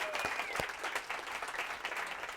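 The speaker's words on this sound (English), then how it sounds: "Can we give another round of applause for the DeVon speakers?" Audience applause for the speakers at a small talk event, a steady close patter of many hands clapping with a few sharper claps and faint voices mixed in.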